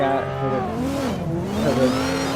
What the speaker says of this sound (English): hear some raw audio of the cars here for the live stream